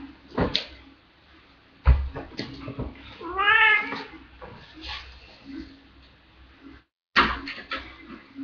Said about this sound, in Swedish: Och det här är min katt.